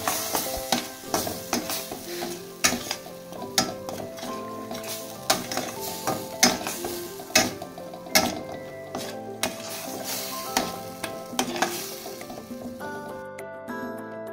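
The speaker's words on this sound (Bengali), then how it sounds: "সব কিছু দিয়ে সেই মশলাটা আবার এটাকে ভালো করে কষাবো" Cauliflower and spice paste sautéing in hot oil in a pan, close up, with frequent clattering, scraping stirs over a continuous sizzle and no talking.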